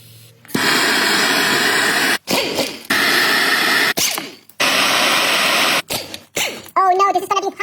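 An aerosol can sprays in several long hissing bursts with short pauses between them, close and loud, onto a rusty front axle. A voice talks briefly near the end.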